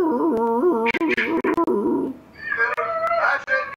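A dog whimpers and howls close by in drawn-out, wavering cries broken by short pauses, rising into higher yelping notes toward the end.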